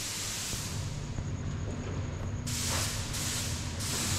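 A steady spray paint aerosol hiss runs throughout over a low hum at night, getting brighter and stronger in short spurts toward the end.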